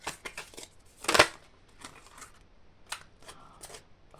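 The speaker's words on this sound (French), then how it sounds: "Je continue le tirage et puis je vous en dis plus." Tarot cards being shuffled and drawn at close range: short papery flicks and riffles with one louder burst of shuffling, then softer scattered card snaps, with no talking.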